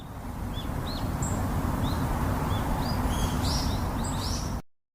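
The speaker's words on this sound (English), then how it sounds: "one of them heard the sound of birds" Several short bird chirps and calls come and go at varying spacing over a steady, loud low rumble that stays constant throughout, then everything cuts out abruptly just before the end.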